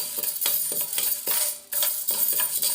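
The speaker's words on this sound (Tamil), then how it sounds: "ஒரு டம்ளர் கடலைப்பருப்பு சேர்த்துக்கலாங்க. சேர்த்துட்டு இப்போ அதையும் நல்லா நம்ம வறுத்துக்கலாம்" Chana dal roasting in a pan, stirred with a metal spoon: repeated light scraping and clinking strokes at a steady rhythm, close and moderately loud, with no talk.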